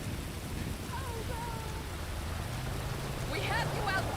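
Rain pours in the video game GTA 5 during a Fourth of July police patrol at Del Perro Pier, a steady wash of falling water with faint voices and brief distant sounds over it.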